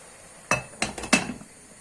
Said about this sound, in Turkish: Şimdi şöyle güzelce karıştırıyorum. Kapağını kapatıyorum.